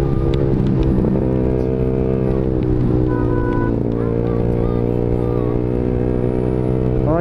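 A small-displacement motorcycle is ridden hard and fast on the road toward Bogor. Its engine holds a steady, loud drone with shifting tonal whine throughout, and wind noise runs underneath.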